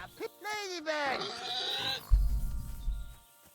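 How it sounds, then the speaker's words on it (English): A stray pig in the video game Kingdom Come Deliverance 2 gives a series of loud, close, squealing and bleating cries, followed by a low rumble that fades away. "I found a stray pig"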